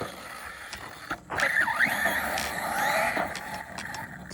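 An electric RC car runs at full throttle on a dirt bike track, its whining motor rising and falling over gritty tire and dirt noise, with a few sharp knocks as it bounces along.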